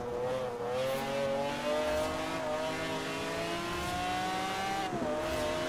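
A Porsche in Forza Horizon 4 revs hard, the engine's pitch climbing steadily under load with a smooth, sustained drone and a brief dip before rising again, fairly faint and without talk.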